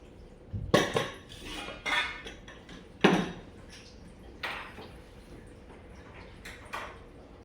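A pressure cooker with its lid on, holding dal and water, set down on a stove: a few separate metallic clanks and knocks spaced over several seconds, fairly close and alone with no talk.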